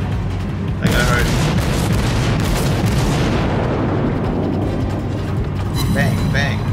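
Naval gunfire and shell hits from a World of Warships cruiser battle involving the Japanese tier IV cruiser Kuma: heavy booms and a sharp close impact burst over a rumbling backdrop, with someone talking throughout.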